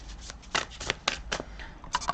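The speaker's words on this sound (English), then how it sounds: "So let's have a bit of a shuffle." A deck of playing cards being shuffled up close, a run of papery riffling and flicking bursts, fairly loud, with no voices.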